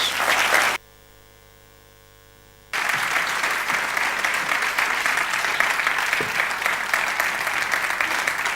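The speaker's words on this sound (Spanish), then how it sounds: "Un aplauso." An audience applauds a speaker at a talk on managing success and failure, with steady clapping that briefly cuts out to a low hum before resuming at full strength to the end.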